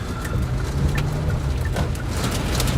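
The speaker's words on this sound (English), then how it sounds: "It's a mix of rain and hail right now." Rain and hail pelt a car during storm chasing in severe Texoma weather, a dense steady patter on the body with scattered sharper knocks of hailstones over a low rumbling drone.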